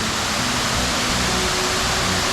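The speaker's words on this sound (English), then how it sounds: "that is an incredible waterfall." Egypt Falls, a large waterfall in Nova Scotia, roars in a steady, dense broadband rush, close and loud, with no voices over it.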